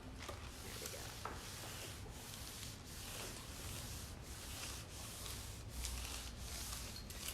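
Hot iron gliding and rubbing over layered plastic bags as they are pressed together to fuse into fabric, a steady close scraping and rustling with faint rhythmic strokes, no talking.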